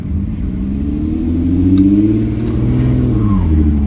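Close, loud drone of a 2.5 V6 in an Audi A6 C5 revving steadily as its slipping automatic gearbox lets the engine climb and waver in pitch, with no voices over it.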